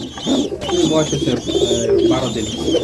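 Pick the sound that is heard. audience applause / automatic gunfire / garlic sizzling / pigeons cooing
pigeons cooing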